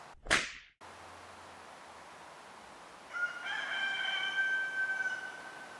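A rooster crows once in the background, a drawn-out, wavering call rising over faint ambient noise, preceded by a single sharp whip-like crack.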